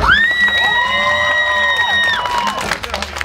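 Spectators at an outdoor street workout competition, many of them children, shout and cheer in support of a competitor, with a long high-pitched yell riding over the dense crowd noise before it breaks up into scattered voices.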